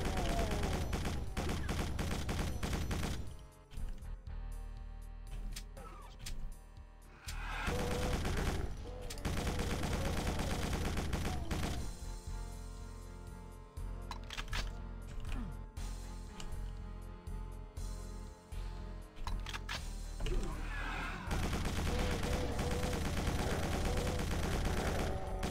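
A chaingunner enemy firing in the video game Doom, long loud bursts of rapid automatic gunfire broken by a few short pauses, continuing at close range through most of the stretch without talk.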